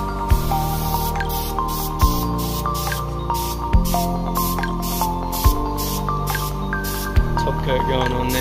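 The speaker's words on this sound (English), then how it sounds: "Top coat going on now." Top coat is spray painted onto a fibreglass boat in a backyard; a continuous close hiss of spraying runs under regular pulsing thumps that repeat roughly every second or two.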